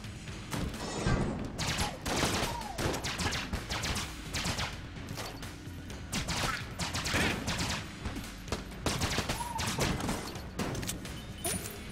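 Rapid bursts of gunfire in the video game Enter the Gungeon crackle and thump in quick succession throughout, dense and sharp, with a faint voice briefly underneath.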